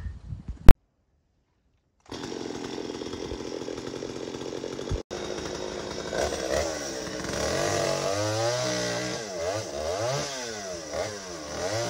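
A chainsaw cutting branches off a Phoenix palm, loud and close: a short burst, a pause, then a sustained revving whine that rises and falls in pitch as the chain bites into the fronds, with no talking.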